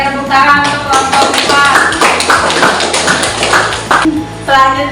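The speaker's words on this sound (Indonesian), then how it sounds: "Tepuk tangan untuk kelompok" A classroom group presentation ends in applause, a burst of claps and taps from the students with some voices mixed in, continuing for the whole few seconds.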